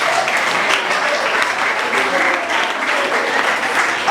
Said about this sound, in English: Please clap for the old students.